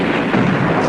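Wartime battle gunfire in the Philippines, with troops shooting across a stadium from under the bleachers at the far end: a dense, continuous roar of distant firing and rumble that fills the whole brief moment.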